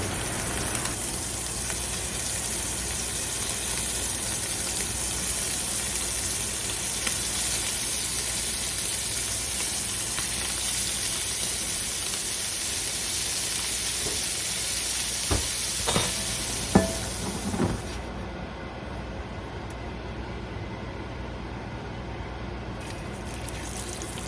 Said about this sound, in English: as you can tell by the sizzling noises, it's ready to go